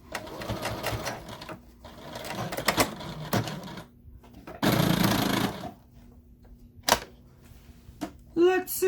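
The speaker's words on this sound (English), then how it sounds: "See, real time sewing, guys, real time sewing." A sewing machine runs a stay stitch on a plastic bag holder in several short bursts of rapid needle clatter separated by pauses, with one longer run near the middle, close and fairly loud.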